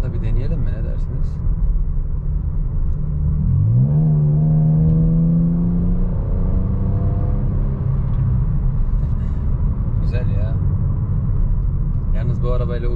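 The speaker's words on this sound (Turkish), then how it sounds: "Gerçek V6'lardan kim kaldı derseniz bu canavar kalmış." Engine of a 2016 Mercedes-Benz E350 with a V6 revved from idle, rising sharply into a sustained high rev for a couple of seconds then falling back to a steady rumble, heard close up with brief clicks.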